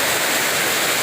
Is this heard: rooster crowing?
no